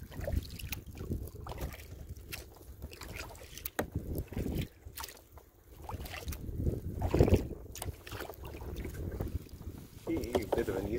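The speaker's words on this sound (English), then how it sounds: "Bit of an easterly wind today." An easterly wind buffets the microphone while kayaking at the Morris Island Conservation Area, a low, gusty rumble with paddle and water splashes mixed in and a voice faintly under it.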